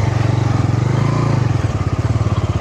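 Off-road motorcycle climbing an uphill trail with no road, its engine producing a loud, close, steady throbbing chug with a pulsing low rhythm throughout and no voices over it.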